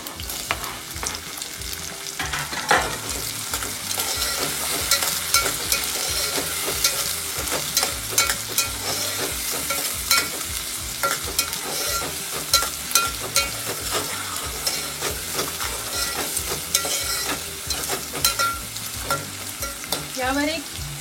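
Tomatoes and onions fry in hot oil while being stirred, giving a steady, close sizzle with frequent scraping and clinks of a spoon in the pan, running unbroken for the whole stretch with no voices.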